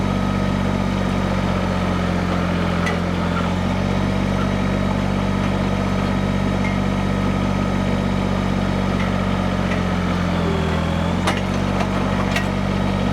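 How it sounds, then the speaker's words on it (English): A steady engine runs continuously and loudly, its low drone dipping and straining briefly near the end as it bogs down before recovering. "You hear that engine bogging?"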